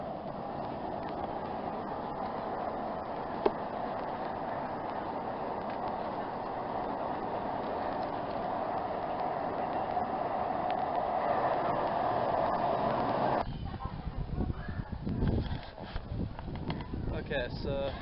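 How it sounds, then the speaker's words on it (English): Metro train ride around Newcastle and Gateshead: a steady rumbling rolling drone inside the carriage that builds slightly, then gives way near the end to choppier, rattling movement and noise. "I'm going to take the metro."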